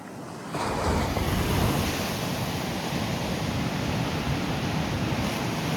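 Ocean waves break on a seashore, a steady loud wash of surf roaring continuously with wind buffeting the microphone, and no voices.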